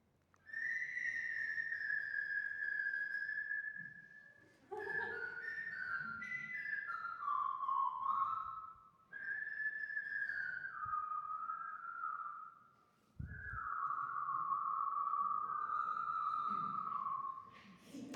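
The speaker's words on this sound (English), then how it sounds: "what even should a whistling jellyfish sound like, right?" AI-generated sound effect of a whistling jellyfish underwater: long, wavering whistle-like tones that slide in pitch, in four sustained phrases separated by brief gaps, with a low thud near the end. No talking.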